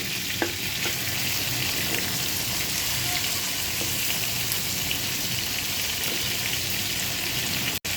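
Large river prawns frying in oil, a steady dense crackling sizzle that fills the whole stretch evenly and close up, with no voices over it.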